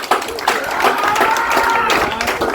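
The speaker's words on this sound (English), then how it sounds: "Give him a round of applause for that." Steady crowd applause and clapping from an audience at a 420 Day speech event, a dense broadband wash lasting throughout, with voices and cheering mixed into the clapping.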